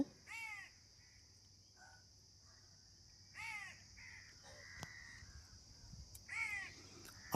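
Crows caw in three separate bursts of harsh calls, moderately distant, over a steady insect drone and faint background hum.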